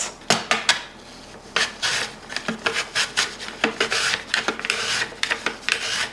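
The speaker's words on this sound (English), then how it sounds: "So I'm gonna use my mandolin for that." Mandoline slicer cutting through an apple in a home kitchen, heard as a run of rhythmic rasping scrapes close up. The strokes come in quick bursts, one slice after another, with no talking.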